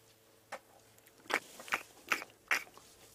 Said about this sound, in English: And you might be able to hear the sort of chewing.